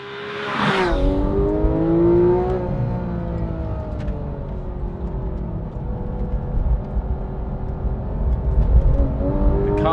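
A Porsche GT3's engine revs hard and climbs steadily in pitch, loud and close, with a rising mechanical whine. It holds near the top, then surges again toward the end.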